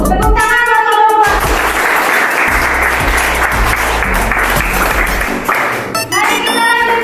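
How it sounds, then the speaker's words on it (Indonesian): A class applauding a student group during a lesson, loud close clapping from a room of people that sweeps in after a moment of speech and fades as a voice returns near the end. "Tepuk tangan buat kelompok."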